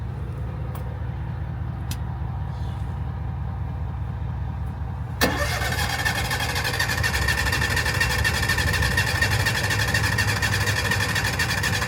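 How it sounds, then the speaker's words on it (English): An RV generator starting: a low rumble drones steadily, then about halfway through it jumps louder and brighter as the motor catches and runs, with faint clicks before. "turn the generator on. And that's easy because it's just a button. Generator on."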